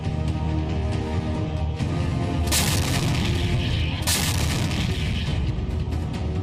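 Two heavy blasts from an M777 howitzer boom out a couple of seconds apart, loud and rumbling over a constant roaring background noise.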